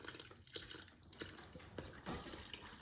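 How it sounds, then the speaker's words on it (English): Wet ingredients and sourdough starter poured into a bowl of flour while making dough, giving soft, wet splashes and drips that come and go, fairly quiet and close, with no talking. "So now I'm going to pour the wet, try to get as much of that starter to go with it as I can."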